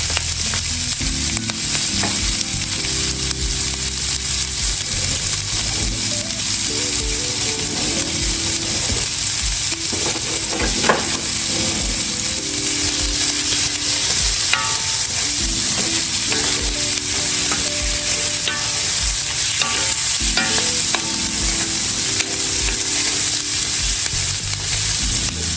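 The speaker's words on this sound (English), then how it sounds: "straight directly into this pot, we're gonna put a small chopped yellow onion" Chopped yellow onion sizzles loudly and steadily in a pot, with repeated scraping and stirring strokes throughout, for a Salisbury steak gravy.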